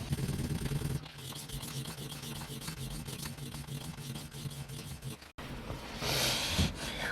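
An LT Wright Lagom Scandi grind knife rubs in repeated rasping back-and-forth strokes across a water stone, close and steady, pausing briefly before a slightly brighter scraping pass.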